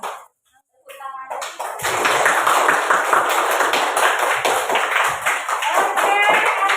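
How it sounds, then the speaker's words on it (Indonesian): Schoolchildren in an elementary school classroom clap their hands together after a brief pause, a dense, sustained burst of many hands lasting several seconds, loud and close. "Tepuk tangan."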